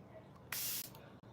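A makeup setting spray misted onto a man's face in one short, close hiss about a quarter second long, followed by a faint second puff, in a quiet room.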